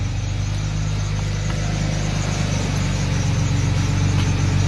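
A Ford Sierra XR4x4 fitted with a 24-valve 2.9 Cosworth engine idling close by, a steady low rumble with an even throb that holds constant from start to end.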